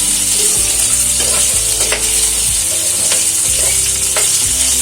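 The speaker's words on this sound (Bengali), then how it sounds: "এরপর এতে আমি কেটে রাখা আলুর পিসগুলো দিয়ে দিচ্ছি" Potato pieces frying in hot oil in a pan with cumin seeds, whole garam masala, three dried red chillies and bay leaves, giving a loud, steady sizzle with occasional scraping stirs, close by and without talk.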